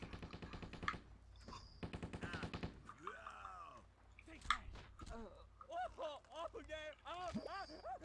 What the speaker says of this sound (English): I hear more gunshots, so there's more militia